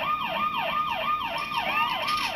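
A police siren in the video game Saints Row 2 wails in a fast, repeating up-and-down sweep, loud and steady with no voices over it.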